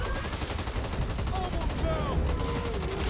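Rapid bursts of gunfire in the video game Back 4 Blood crackle continuously under a noisy, busy background, fairly faint and compressed.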